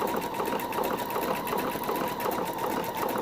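A sewing machine runs continuously, stitching along the outer edge of dress fabric with a fast, even mechanical whir and rattle and no pauses.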